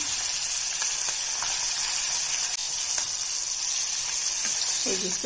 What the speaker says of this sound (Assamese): সামান্য ভাজি লৈ আছো, বেছি নাভাজো।